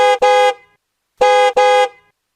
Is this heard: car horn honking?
yes